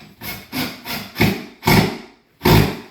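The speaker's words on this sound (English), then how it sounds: "So I like to use a drill, and I'm just going to drill them right in." A power drill drives screws into a wooden drawer in six short bursts of rising effort, each one biting into wood with a grinding, rasping edge, close by.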